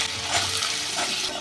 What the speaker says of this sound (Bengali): এই আলুটা আমি ভেজে নেব।